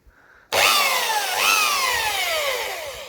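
An electric power sander, used on wood for a garden gazebo, starts abruptly and runs loud and close with a high whine that slips in pitch, steady to the end.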